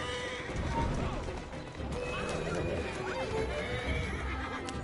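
In Assassin's Creed Syndicate, horses pulling a big wagon whinny and snort over a clatter of hooves and rolling wheels, with faint voices underneath.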